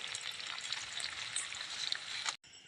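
Onions sizzling steadily in hot oil in a pan while cooking upma, a dense continuous frying hiss that carries evenly throughout before cutting off sharply near the end.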